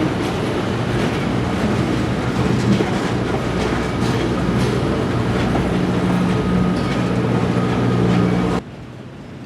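A CSX Tropicana orange juice freight train rolls past in Tampa, Florida, a loud, steady rumble of railcars with faint clickety-clack, continuing for about nine seconds before dropping off abruptly.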